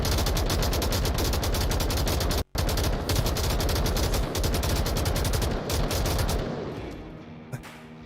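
Rapid celebratory gunfire from players in the VR shooter Onward during a competitive match, a dense unbroken volley of shots with one brief gap, tapering into quieter scattered noise near the end.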